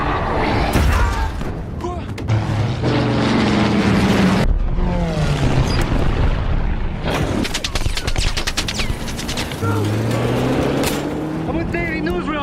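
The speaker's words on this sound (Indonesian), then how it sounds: "dibangunkan oleh suara pesawat tempur" Loud, dense roar of Japanese fighter plane engines attacking Pearl Harbor, with rapid bursts of gunfire and blasts, sweeping pitches rising and falling throughout, with voices shouting over the chaos.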